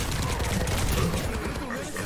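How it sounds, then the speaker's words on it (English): Gunfire in the Overwatch 2 video game comes as dense, continuous bursts of weapon fire mixed with game effects, loud and sustained throughout. "you can shoot all your weapons at me"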